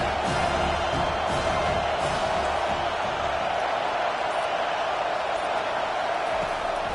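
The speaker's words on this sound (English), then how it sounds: "Decibels rising as the crowd gets behind this defense on 3rd down." Home football stadium crowd during the Virginia Tech versus Miami game, a dense, steady roar swelling behind the defense on third down, loud and continuous throughout.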